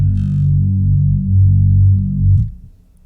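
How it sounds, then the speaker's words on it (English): A deep, buzzy synth bass tone from a heavily filtered saw wave on a Quad Cortex drones steadily with a muffled, filtered edge, swelling slightly before cutting off near the end. "heavily filtered saw wave is kind of what we're going for here"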